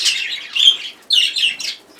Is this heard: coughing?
no